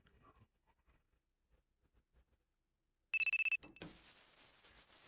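A telephone in the VRChat game rings in one short burst of rapid electronic trills, loud and close, after near silence with faint soft knocks, followed by a hissy rustle.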